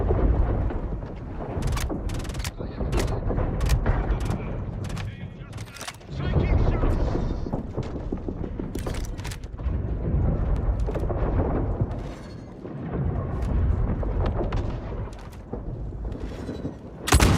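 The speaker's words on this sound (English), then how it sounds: "Who's fucking shooting me, man?" Gunfire in the space game Star Citizen rattles in repeated bursts and sharp shots over a rumbling, booming background, dense and continuous with brief lulls.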